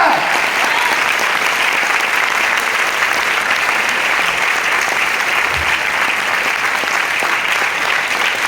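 Sustained applause from a big crowd of students at a coaching session, many hands clapping in a thick, even roar that holds steady from start to finish without pause.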